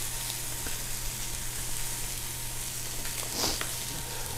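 Food sizzles in a hot pan, a soft, steady frying hiss with small crackles and one brief louder spatter near the end, close by with no talk.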